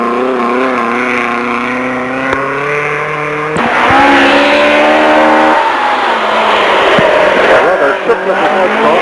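Front-wheel drive rally car sliding rear-wheel style through a 1985 forest stage, its engine revving loudly with gear changes and rising and falling notes as it passes close by.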